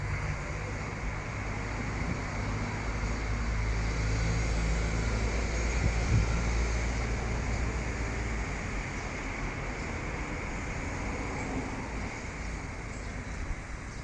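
A Makanum 155 Plus hand-crank diesel engine runs on a test, giving a steady, loud mechanical drone with a low rumble that continues without pause for the whole stretch.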